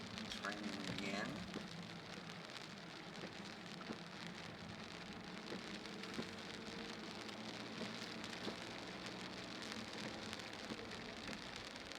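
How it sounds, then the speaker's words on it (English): Rain falls steadily on a Sunday afternoon drive, an even hiss of drops with some sharper taps on nearby surfaces, and someone talks over it near the start. "It's raining again."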